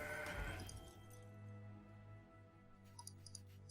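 A goat bleating in the card game Legends of Runeterra, one brief nasal bleat at the start over a quiet game soundtrack, followed by a low hum and a few faint clicks.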